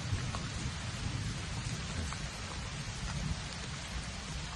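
Steady rain falls on trees outdoors, a dense continuous hiss with a low rumbling undertone, moderately loud and unbroken with no voices.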